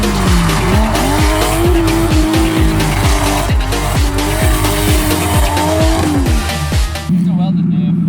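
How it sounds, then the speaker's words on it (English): A 1JZ-swapped BMW E36 spins one rear wheel with a loud, sustained tire squeal over a roaring, revving engine, steady and close throughout, easing off near the end as the engine settles. "A little bit of one wheel peel."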